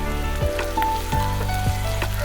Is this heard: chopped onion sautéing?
yes